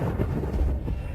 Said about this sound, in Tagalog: Kidlat sa liwanag ng araw.